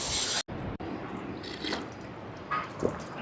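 Very cold water flows and drips steadily at a Himalayan temple, the Mahasu Devta shrine at Hanol, a continuous close splashing broken by two brief cutouts and a few louder gushes.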